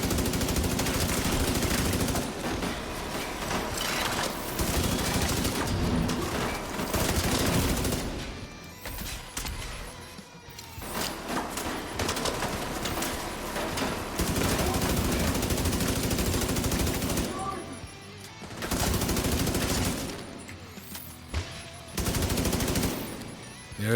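Sustained bursts of rapid minigun fire in a video game, loud and dense with brief pauses between long volleys, mixed with other game action and no talking.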